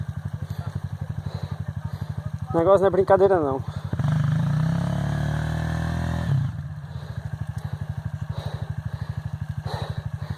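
Motorcycle engine idling and revving on a muddy trail in the rain, a steady close putter that swells into a loud rev burst mid-clip before settling back to idle, with someone talking over it.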